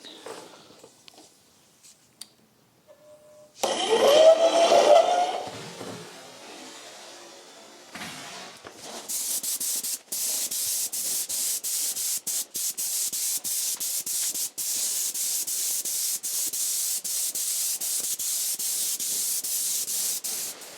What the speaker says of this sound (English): I'm going to prime the pump, and then we start painting